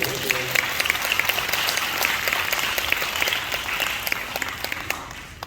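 Church congregation clapping during a Sunday anniversary worship service, a steady dense wash of applause from a full room with voices murmuring underneath.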